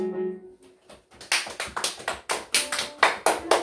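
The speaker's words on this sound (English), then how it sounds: "A round of applause for that." A small group gives a round of applause in a church service, sparse and uneven claps building into a brisk rhythmic patter, moderately close and alone.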